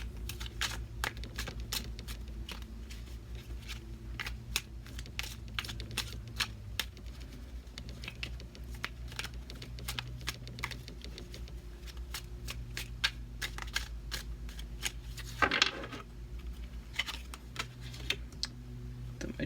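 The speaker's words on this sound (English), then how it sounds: "I'm going to shuffle 4 times" Steady, rapid crisp clicking and riffling of tarot cards being shuffled, close up, with a brief louder burst of riffle near the end and no talking.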